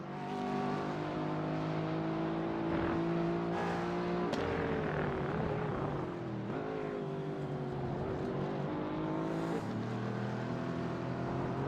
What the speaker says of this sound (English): Hear the big Aston backfiring.